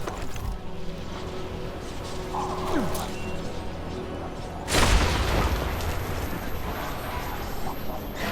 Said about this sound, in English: I thought a frag grenade would destroy it.